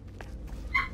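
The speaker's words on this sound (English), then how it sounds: "you can hear my puppy barking in the background" A puppy yips and whimpers briefly in the background indoors, a couple of short, faint high cries over low room noise.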